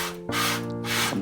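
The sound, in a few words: hand sprayer spraying water on screen printing film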